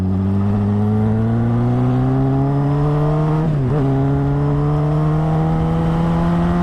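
A Honda CBR 600RR sport motorcycle engine hums steadily at a constant pitch with a brief dip midway as it shifts, a smooth continuous ride with no voices.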